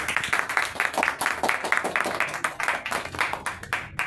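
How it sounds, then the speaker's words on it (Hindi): Audience clapping at a property sales talk, with dense, rapid hand claps forming a continuous loud burst throughout. "एक बार जोरदार ताली हो"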